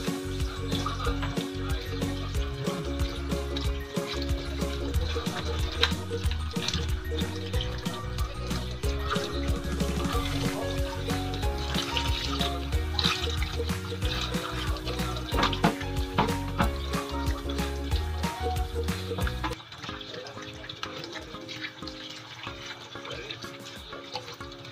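Tap water runs steadily onto a chicken being plucked for tenola, a continuous close splashing wash that stops abruptly near the end, leaving a quieter trickle.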